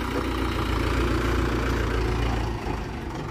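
A Mahindra 575 tractor engine idles steadily close by, a dense low rumble with a fairly even chugging throb that eases slightly near the end, with no talking over it.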